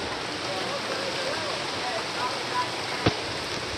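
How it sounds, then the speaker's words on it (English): Heavy rainstorm over a lake in Mexico, with a dense, steady hiss of rain and wind that never lets up, plus one sharp knock near the end. "It's freaking Raining."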